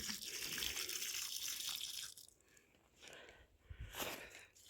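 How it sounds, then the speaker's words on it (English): A tap at a house runs water into a 5-gallon water container, a loud steady gush for about two seconds, then it stops, leaving quieter splashes and handling noises. "I'm at my aunt's house filling my 5-gallon water."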